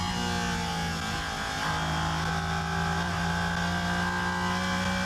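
Porsche 718 Cayman GT4 RS Clubsport Manthey edition race car running on e-fuel at the Nürburgring 24-hour race, its engine a steady, loud drone with sustained tonal harmonics and no voices over it.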